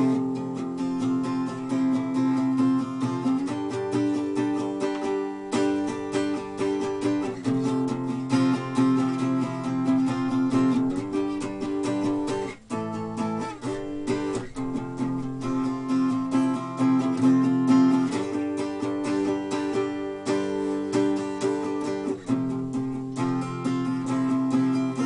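Acoustic guitar playing palm-muted power chords on strings 5 and 4, a steady chugging rhythm of muted strums, close and fairly loud, alone with no voices throughout.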